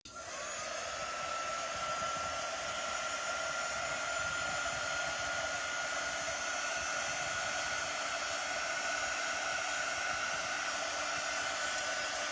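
Blow dryer running steadily at close range over a painted egg craft, a constant airy hiss with a steady whine, uninterrupted for the whole stretch.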